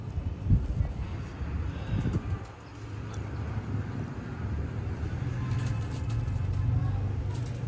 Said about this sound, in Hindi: है जी दोस्तों सियालकोटी शेखां वाले कबूतर